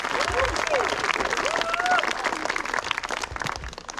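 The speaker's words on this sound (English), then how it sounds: "can we get a quick round of applause for how great of a job Haley did on the cere" Wedding guests applaud at a reception, a broad wash of clapping and crowd noise, with voices and whoops rising through it over about four seconds.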